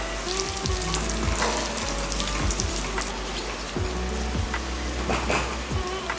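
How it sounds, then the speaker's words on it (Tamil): Cashews and raisins fry in hot oil for a coconut milk veg pulao, a dense, continuous crackling sizzle close up, with occasional spoon scrapes and no talking. "இதையும் இதிலையே போட்டு வறுத்துடலாம்"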